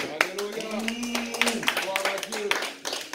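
A church congregation claps during a sermon: a burst of applause with sharp hand claps that dies away, mixed with voices speaking loudly over it.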